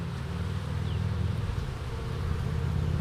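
Honey bees swarm around a small hive, their dense, steady low buzzing close and loud, with no voices over it.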